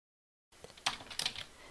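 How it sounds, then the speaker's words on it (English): Keys on a computer keyboard tapped to enter a book title into a library catalog search box, starting after a brief silence as a few quick, close clicks and soft taps. "Next, we type in the title in quotes."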